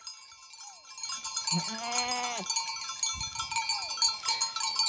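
A billy goat on a remote mountainside farm gives a clear, wavering bleat near by, with a softer bleat later, amid faint cowbell clinks and background rustling.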